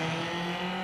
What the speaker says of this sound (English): For those of you that wanted to see a BMW doing a burnout, here it is.